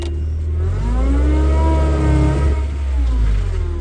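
Linde H35T gas forklift running steadily up close, its engine note rising and falling as it stops, shifts through neutral and reverses direction, with no talking.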